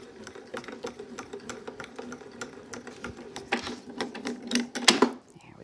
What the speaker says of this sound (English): cutting edge down, pop it through a grand caliber